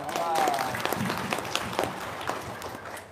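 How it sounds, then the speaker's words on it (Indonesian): A small group at a home holiday gathering claps their hands, uneven nearby clapping with sharp individual claps mixed with voices talking over it. "Tepuk tangan dong."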